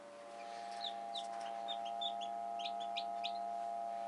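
Many small high-pitched peeps and cheeps from newly hatched Cream Legbar chicks, scattered and overlapping, over a steady low electrical hum.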